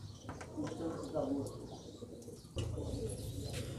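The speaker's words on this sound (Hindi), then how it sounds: "जो कबूतर उड़ाने लगा हूँ वही आपको दिखा रहा हूँ" Soft pigeon cooing and chirping amid a busy, noisy background, with a person talking over it during pigeon training.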